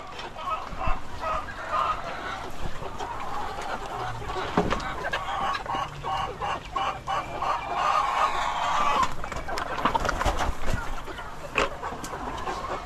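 A flock of sick two-month-old chickens clucking continuously on a backyard farm, a busy steady chorus of overlapping clucks and chirps at close to mid distance, with no talking.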